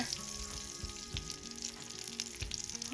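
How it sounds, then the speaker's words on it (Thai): Spices and palm sugar stir-fry in an iron wok for Thai braised pork leg, a dense close sizzle with a few stirring scrapes over its short span. "ใส่ลงไปผัดค่ะก็ใส่น้ำตาล น้ำตาลปี๊บค่ะ"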